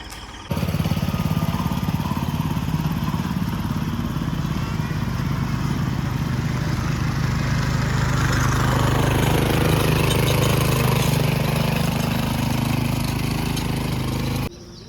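A tractor engine runs steadily at idle in a village setting, a loud, close, continuous low rumble that starts abruptly and holds even for the whole stretch before cutting off.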